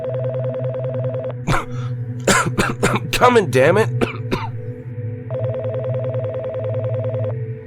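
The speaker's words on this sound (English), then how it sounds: "The phone started to ring just as he was taking his first swig" A telephone rings in repeated bursts, loud and close, in a quiet room; a man coughs and chokes mid-drink between the rings and shouts over them.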